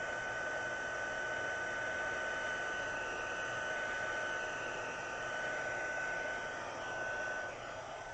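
A heat embossing tool blows a steady, loud whoosh of hot air over stamped cardstock, running continuously with no talking and only a slight dip in level near the end.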